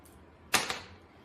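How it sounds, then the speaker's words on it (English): Dice clatter onto a tabletop during a tabletop wrestling game, one sharp rattling burst with a quick second bounce, close and clear over a quiet room. "Roll your dice"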